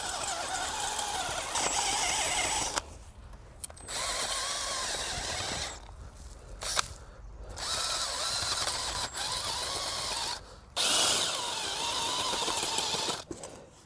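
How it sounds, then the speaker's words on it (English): A power drill bores a series of planting holes in garden ground for foxgloves, its motor whirring in steady bursts of several seconds broken by brief pauses, close and fairly loud, with no talking. "So I'm gonna just drill 16 holes and then I'll pop them in their holes."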